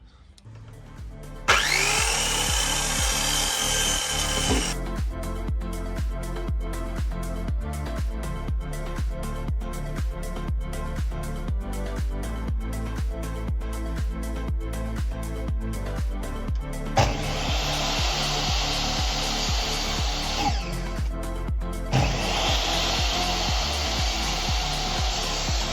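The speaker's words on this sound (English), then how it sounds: "Chuck it through the planer and then get it sanded and trim it to length." A finger-jointed wooden ceiling batten is fed through a planer. Loud bursts of high whining cutting come in several passes over a steady motor drone and a rhythmic mechanical thumping.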